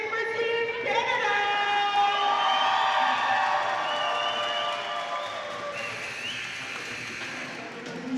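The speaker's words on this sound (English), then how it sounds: "And can I hear you here cheering for Team Canada?" A crowd at a women's U19 Pan Am Cup volleyball match between Canada and Costa Rica cheers steadily for Team Canada, a sustained roar with whoops and shouts over the arena PA and ambient noise.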